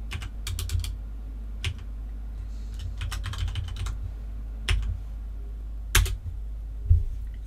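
Computer keyboard keys are tapped while code is typed, sparse clicks and short clusters of keystrokes over a low steady hum, close and fairly crisp.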